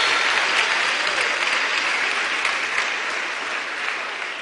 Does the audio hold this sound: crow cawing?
no